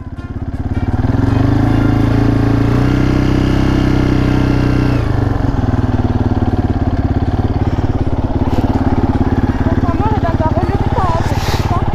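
A quad bike engine runs loud and close as it pulls away slowly in first gear, a steady motorcycle-like drone whose pitch and tone shift partway through as the clutch engages.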